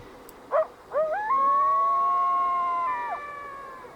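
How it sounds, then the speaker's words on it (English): A young coyote in the wild howls alone and fairly close: two short yips, then one long, sustained, wavering howl that ends with a downward slide. "I came across this character of a coyote here, and I think he was just howling for his mom."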